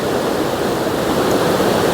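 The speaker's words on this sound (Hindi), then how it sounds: "ख़तरनाक तरीके से पानी चलने लग रहा है" Forceful water rushing down a mountain stream near Kedarnath, a loud, steady broadband roar with no breaks and no voices.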